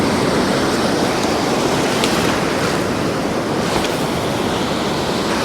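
Surf breaking steadily around a knee-deep angler casting from a North East Scotland beach, a loud continuous wash of waves with wind buffeting the microphone throughout.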